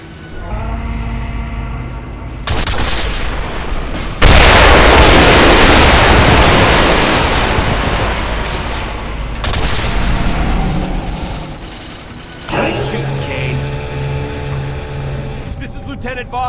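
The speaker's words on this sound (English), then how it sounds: "Kane, hop in the cannon and see if you can't blow open the door to the access corridor." Heavy booming blasts and rumbling roar as a cannon fires to blow open a corridor door in the sci-fi shooter Quake 4, loud and sustained with several surges, under voices talking.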